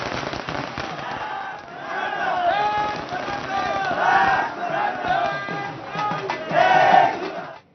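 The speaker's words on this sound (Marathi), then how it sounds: "घोषणाबाजी करत विजयोत्सव साजरा करण्यात आला" A crowd in Beed celebrates the acceptance of Maratha reservation demands with loud continuous cheering and rhythmic slogan chanting, with dense shouting voices sustained throughout and rising toward the end.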